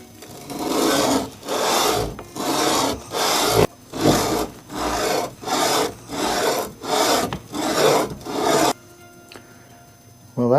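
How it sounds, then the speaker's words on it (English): Coarse 120-grit sandpaper rubbed back and forth over the cylinder head of a 1965 Evinrude 3 hp outboard, about nine steady, rasping close-up strokes in an even rhythm, then a pause near the end. "so we're going to keep sanding on this with 120"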